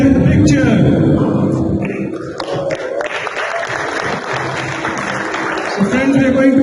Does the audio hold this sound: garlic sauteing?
no